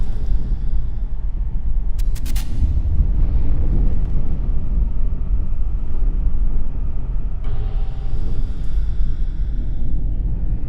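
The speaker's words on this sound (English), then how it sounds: "All the explosions are synchronized together to make that one constant engine roaring sound." A four-stroke combustion engine runs with a steady, loud, low roar that holds for the whole stretch, plus a few brief higher clanks and mechanical rattles layered over it.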